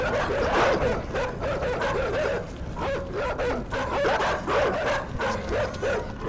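Dogs barking in the video game INSIDE, a dense, continuous chorus of repeated barks and yips, loud and close, with no talking.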